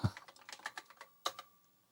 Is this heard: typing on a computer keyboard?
yes